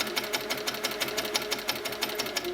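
An HQ Sweet Sixteen sewing machine stitches along a quilting ruler, a rapid, even mechanical clatter of needle strokes, close and steady throughout with no speech.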